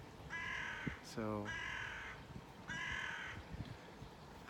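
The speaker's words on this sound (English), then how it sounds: "I can say crow." A crow caws in repeated harsh, nasal calls, three drawn-out bursts spaced through the stretch, moderately close, while a person says a single word partway through.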